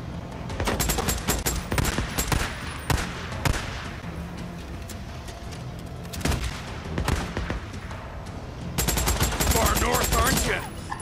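Bursts of rapid gunfire crack out in the Days Gone video game, loud automatic volleys and single shots in clusters separated by brief lulls, with a voice speaking faintly underneath.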